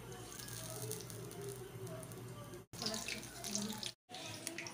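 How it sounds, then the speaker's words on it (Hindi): Potato and brinjal pakoras coated in light gram-flour batter sizzle and hiss steadily in hot oil, a continuous bubbling frying noise close by, briefly cut twice. "अब हम आलू के पकौड़े डालने हैं तेल में, और बैगन के भी मैं साथ ही डाल दूंगी"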